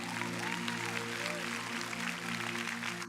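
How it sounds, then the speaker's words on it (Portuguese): A church congregation claps together after a preacher's call, a broad wash of applause under a sustained musical drone, with a few faint voices mixed in. "Dou uma salva de palmas."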